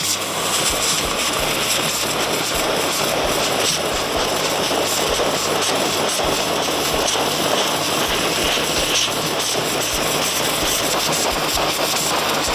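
ARXP BOX3 high-pressure washer blasting a brick, a loud, steady motor drone and hissing spray running unbroken throughout with no talk.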